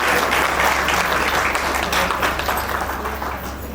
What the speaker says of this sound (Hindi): आप लोग चाहे तो ताली।